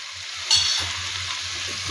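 Turmeric and fenugreek powder sautéing in hot oil for a Kerala milkfish curry, a steady close sizzle with a brief louder burst of frying as the spices hit, continuing evenly without talk.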